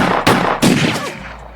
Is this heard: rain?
no